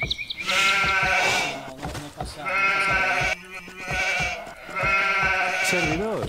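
Repeated sheep bleats in the strategy game Age of Empires 2, three long wavering cries in a steady rhythm, loud and close, mixed with other game sounds.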